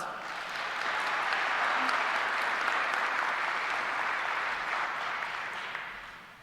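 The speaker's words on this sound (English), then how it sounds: "So please give them a round of applause." A church audience gives a round of applause, an even wash of clapping that rises quickly, holds steady, and begins tapering toward the end.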